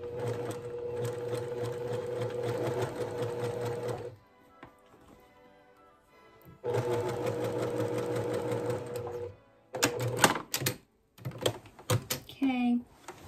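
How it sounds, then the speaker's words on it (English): A sewing machine stitches quilt binding in two long steady runs close up, with a pause between, then loose clicks and handling noises of fabric being adjusted. "Sewed it a little bit closer together."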